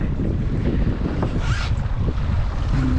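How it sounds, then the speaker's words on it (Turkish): Steady wind rushes over the microphone while Mediterranean waves slosh around a moving fishing boat, a constant dense roar with a faint engine hum. "Biraz dalga rüzgar var ama yapacak bir şey yok."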